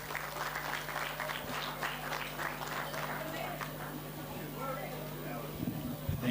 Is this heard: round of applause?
yes